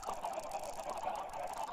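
Minecraft chickens clucking in a continuous, fairly steady stream of bird calls, moderately loud and without speech, with repeated short squawks overlapping throughout.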